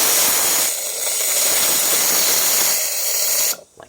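Loud, steady hiss from the steam wand of a Delonghi EC860M semi-automatic espresso machine, holding for over three seconds before cutting off abruptly.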